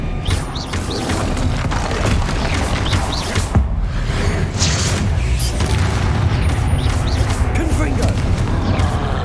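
Confringo fire spells from the video game Hogwarts Legacy burst into loud, dense booming explosions with crashing impacts throughout, under battle noise and speech.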